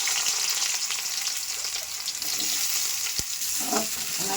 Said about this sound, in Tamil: வெங்காயம் போட்டு நல்லா வதக்கிட்டு